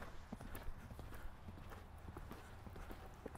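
Steady clip-clop of a ridden horse's hooves in a rapid, even rhythm on an equestrian training ground, faint and somewhat distant under a low ambient rumble.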